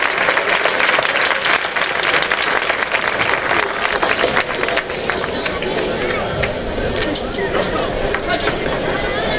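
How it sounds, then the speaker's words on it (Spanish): Outdoor festival audience at the Fiestas de San Juan in Tudela, Spain, breaks into loud, sustained applause. Dense clapping from a sizeable crowd carries on throughout, mixed with voices and crowd chatter. "Fuerte aplauso yo les pido para Protección Civil"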